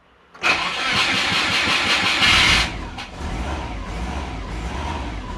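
A Subaru sleeper car engine cranks and catches, giving a loud starter whir for about two seconds. It then settles into a rough, uneven idle close by, with no talk.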